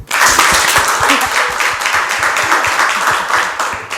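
A live stage-show audience applauds a couple, Marie and Joseph: dense, steady clapping from a crowd that swells in quickly and holds loud and even for several seconds.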